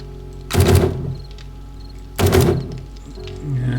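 In the 7 Days to Die video game, an assault rifle fitted with a bipod and foregrip fires two separate, punchy thumping shots about two seconds apart, each dying away quickly into quiet.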